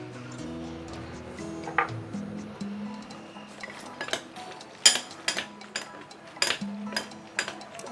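Sabah pork noodles being tossed together with soup and toppings, with utensils clinking and tapping against a bowl in scattered, close, irregular bursts.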